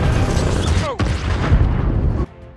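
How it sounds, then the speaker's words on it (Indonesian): Cannon fire aimed at a turtle car in the Super Mario movie makes a loud blast within a dense, roaring action soundtrack, with a voice talking over it before the sound cuts down sharply near the end. "berhasil menembakkan meriam ke arah mobil kura-kura tersebut"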